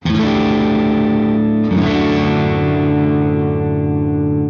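A distorted, effects-heavy electric guitar holds a sustained chord, then shifts to a new chord partway through that rings out to the end.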